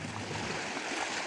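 Sea waves wash onto the shore as a continuous broadband rushing roar, steady and fairly loud, with no voices.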